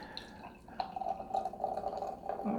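Sand City Brewing Company Cosmic Disorder double IPA poured from a can into a glass, a close, steady gurgling and splashing stream with soft drips, no talking.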